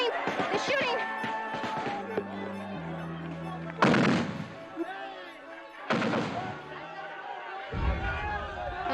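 Tank and soldier gunfire during a crowd protest outside a bishop's house, with heavy booming shots and sharp cracks at intervals over crowd commotion, while someone narrates in the foreground.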